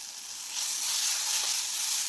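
Curry leaves dropped into hot oil with cumin powder for a dried prawn curry, a loud crackling sizzle that swells after a moment and holds steady, with no talk.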